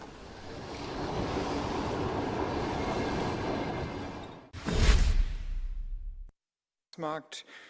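A passenger train chartered by Doctors Without Borders rumbles past in a steady wash of wheel and rail noise, followed by a louder whooshing surge, a sudden cut to silence, then brief bursts of sound.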